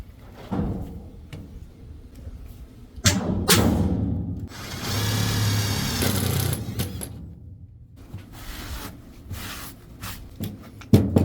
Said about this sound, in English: Alright, we got our 2 holes drilled.